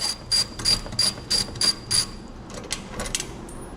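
A hand ratchet loosening motorcycle exhaust bolts during a DIY slip-on muffler install, about seven quick clicking bursts in an even rhythm, close and clear, then fainter, more irregular clicks.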